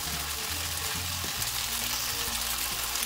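Tofu products stir-frying in a pan give a steady, moderate sizzle that runs without a break, with faint low hums and no talking.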